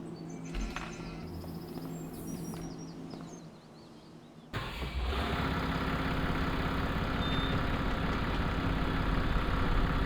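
A quad bike engine idles steadily on a farm. It runs softer at first, then jumps to a louder, denser rumble that holds to the end, with faint outdoor background and no voices.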